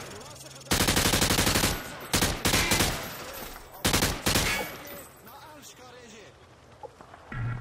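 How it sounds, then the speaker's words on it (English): An automatic rifle fired from the hip at range targets in Modern Warfare 2 lets off several loud, close bursts of rapid gunfire with short gaps between them, then quieter shell clatter and a voice near the end. "He sprayed bullets all over the damn place."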